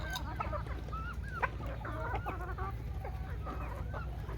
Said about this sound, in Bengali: এই দেখুন দেশি মুরগ।